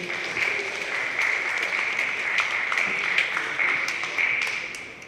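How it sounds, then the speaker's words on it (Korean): Seated attendees at a Korean conference applaud to welcome a speaker to the stage, a steady, moderately loud wash of clapping with a few sharper claps standing out. "박수로 환영해 주십시오."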